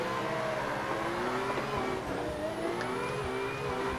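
A Toyota JZX90 with a 1JZ engine in the Assetto Corsa drifting sim, engine note revving and fluctuating continuously as the throttle is modulated, steady and prominent throughout.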